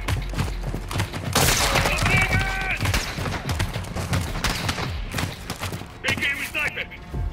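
Bursts of sniper and rifle fire in Call of Duty Modern Warfare 2, a rapid series of loud cracks and thuds in a busy firefight mixed with voices and game sound.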